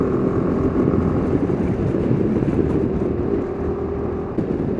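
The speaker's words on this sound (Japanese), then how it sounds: "スクーターとしてはエンジン音がよく聞こえる方だと思います。" Suzuki Burgman 400 ABS big scooter engine running steadily on a mountain pass road, a loud continuous drone with wind rush and no clear changes in pitch.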